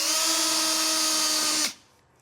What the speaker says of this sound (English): Just get a drill bit that's slightly larger than the opening of the rivet and just go